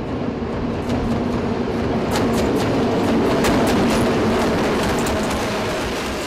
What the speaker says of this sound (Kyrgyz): Аркасына вагондорун сүйрүп, күрүлдөп шарылдап поезд Карабалтадан Бишкекке келди.